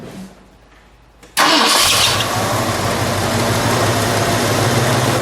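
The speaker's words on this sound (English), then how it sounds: "let's fire it, shall we? Yeah, sure. We'll get a little exhaust note" After a quiet moment, the engine of a 1966 Ford Country Sedan wagon, a fire chief's car, cranks and bursts into life, then settles into a steady, rumbling idle close by.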